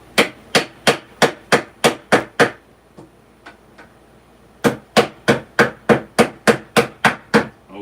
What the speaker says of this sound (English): Oh, trusty hammer.